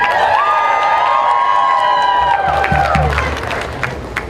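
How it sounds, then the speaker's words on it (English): A loud crowd at an outdoor climate strike rally in Asheville cheers and claps continuously, with whoops and a sustained shout rising above the roar before it gradually thins out. "Can you give yourselves a round of applause?"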